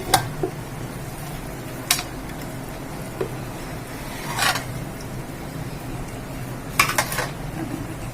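Medium-sized mutton pieces being tipped into a metal cooking pot, giving a few sparse metallic clanks and clatters spread over several seconds against a quiet room hum.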